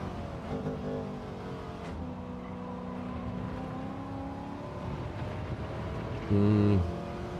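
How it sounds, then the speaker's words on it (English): Engine revving in the racing game Gran Turismo 7 during a time trial, a steady mid-pitched drone with shifting gear tones and a brief louder, harsh burst near the end. "I just could not get the car slowed down."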